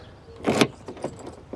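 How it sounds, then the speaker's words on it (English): A bunch of keys jangles in one short metallic burst, with a few lighter rattles after it, close by in a quiet room in a detective drama. "These are the keys Drake had on him."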